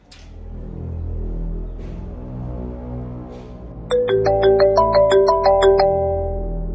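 A phone ringtone plays a repeating melodic chime pattern over a low background hum, starting a few seconds in and ringing steadily and clearly with no talking.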